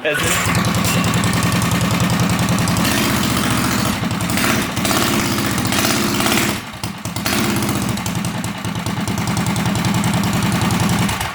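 Go-kart engine cold-started without electric start, running loud and steady with a buzzy small-engine drone throughout, briefly dipping before revving again, with people talking over it.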